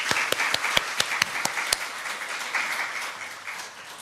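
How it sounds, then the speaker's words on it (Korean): A church congregation claps after a choir's hymn, starting with a few sharp, distinct hand claps that quickly merge into a dense round of applause, then fade slightly. "이 모든 영광을 오직 우리 하나님께 크게 박수하시면서 올려드리겠습니다."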